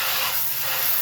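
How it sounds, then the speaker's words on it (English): A spray bottle mists cleaner onto a window air conditioner part, producing one sustained, close hiss. "I'm going to spray it again and let it sit a little longer"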